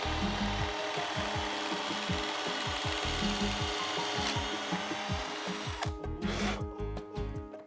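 A drill bit with a depth stop bores into a wooden shelf, giving a rapid, rhythmic grinding chatter that runs steadily before stopping and trailing into a lighter whir.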